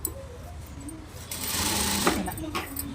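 Sewing machine stitching the lining of a blouse, a steady close mechanical whir that grows louder midway, with a voice talking over it.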